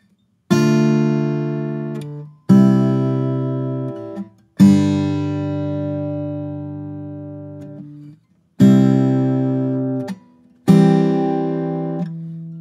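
Sparse acoustic guitar strums for the bridge of a song: five single chords struck at roughly two-second intervals, each ringing out and decaying, close and clear with no talking.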